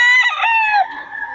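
A rooster crows once at a market, a loud, close, drawn-out call lasting just over a second, standing alone.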